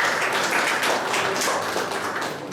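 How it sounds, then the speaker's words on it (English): Audience at a motivational seminar applauding, a steady dense patter of clapping hands filling the room, loud and continuous with no talk. "Give it a round of applause"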